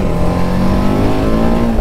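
A motorbike engine on an off-road ride in foggy weather, a loud, steady close-up drone with a held tone and no voices.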